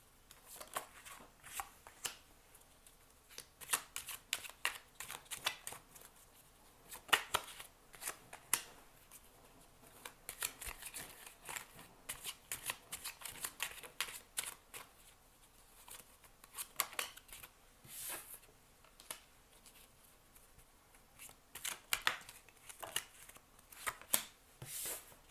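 Tarot cards shuffled continuously by hand, a steady run of quick papery riffles and soft slaps that stays close and fairly quiet, with no voices.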